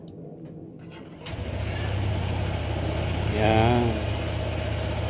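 A Honda ADV 160 scooter engine, just cleared of a check-engine fault, cranks and catches after about a second, then settles into a steady, close idle. A brief voice speaks over the idle.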